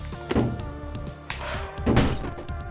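In the video game Super Meat Boy, the character runs into a wall and gives a few short, dull thunks in quick succession, a soft knocking bump heard alone.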